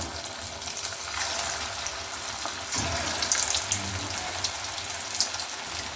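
Bread pakoda batter being dropped into hot oil, frying in a steady, bubbling sizzle with small crackling spikes, heard close and without talk.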